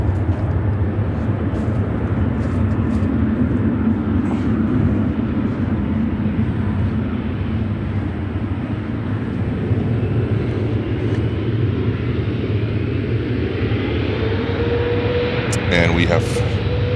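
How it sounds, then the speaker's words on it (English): An Air China Cargo plane taking off from runway 22 center at Chicago O'Hare, a loud sustained jet roar with deep rumble and wind, steady and close throughout. "And we have Air China Cargo taking off on runway 22 center."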